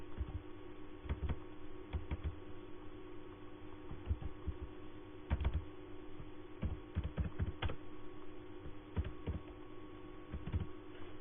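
Keys on a computer keyboard clack in irregular bursts as a name is typed into an MS Word document, close and fairly quiet over a constant low hum, with no voices.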